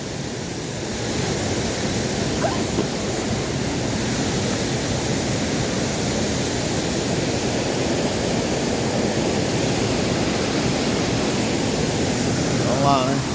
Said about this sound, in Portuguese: Famosa Cachoeira do Zola.